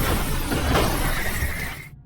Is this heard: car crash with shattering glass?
yes